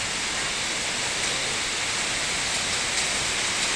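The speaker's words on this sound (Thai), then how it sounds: "ฝนตกอีกแล้ว" Heavy rain falls at night in a steady, hissing wash that stays loud and unbroken from start to finish, with no voices.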